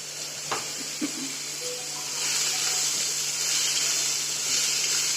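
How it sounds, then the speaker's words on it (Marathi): Chopped onion sizzles and hisses steadily in a hot pan for a paneer paratha filling, with a few soft stirring scrapes early on and the frying noise growing louder and fuller after the first couple of seconds. "कांदा चांगला परतून घ्यायचा"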